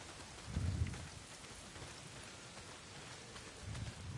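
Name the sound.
rain from the Days Gone video game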